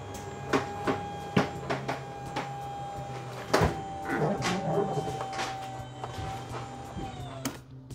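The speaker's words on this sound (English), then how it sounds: "The bedroom's moving and this big slide's moving, but the kitchen's not." Hydraulic slide-outs on a 2024 Forest River Cottage 40CBK destination trailer move in or out, with a steady mechanical hum and whine under a series of sharp knocks and clunks, heard indoors.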